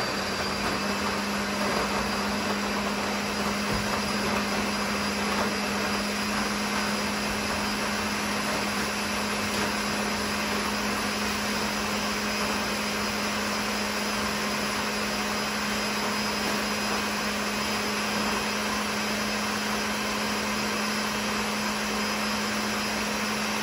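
A Ninja blender runs steadily on smoothie ingredients, giving a loud, constant motor whir with an even hum that lasts more than twenty seconds without a break.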